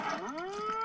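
A cartoon cow in the video game Conker's Bad Fur Day lets out a single drawn-out moo that rises and holds, close and clear with no other sound around it.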